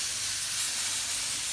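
A garden hose sprays water onto container plants in a steady, close hiss that runs unbroken from start to finish.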